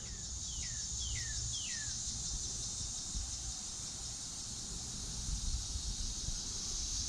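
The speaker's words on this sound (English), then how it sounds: "Sorry about the cicadas. It's cicada season" Cicadas buzz steadily outdoors in cicada season, a constant high drone filling the whole stretch, with a few short rising chirps early on and faint wind noise underneath.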